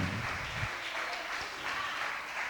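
Church congregation applauding during a worship service, a steady broadband clapping wash filling the moment at moderate level, with some low rumble at the start.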